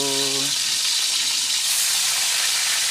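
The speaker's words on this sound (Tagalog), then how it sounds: "Ngayon, prituhin natin." Steady, loud sizzling of tuna frying in hot oil fills the whole clip, with a brief voiced tone at the very start.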